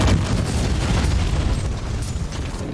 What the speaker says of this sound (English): Oh, he even hit us with a grenade.